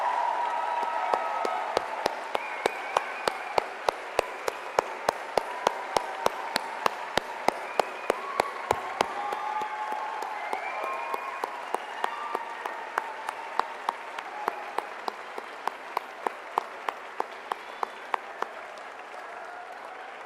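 Sustained applause from a large audience at a university graduate commencement ceremony, a broad continuous wash of clapping that stays steady for the full twenty seconds, with a few sharper individual claps standing out nearby.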